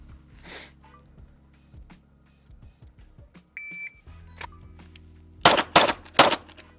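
Handgun shots during a concealed carry draw drill, a few sharp, loud cracks near the end after a quiet stretch of faint clicks, rustling and a brief beep.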